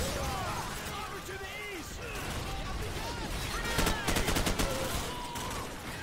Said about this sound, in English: There's so many grenades being dished out.